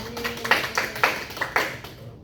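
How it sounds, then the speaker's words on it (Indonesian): Students in a microteaching classroom give a short round of applause, about five soft, evenly spaced claps at close range with no talking. "Beri tepuk tangan dong."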